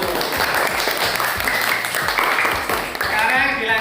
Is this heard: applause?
yes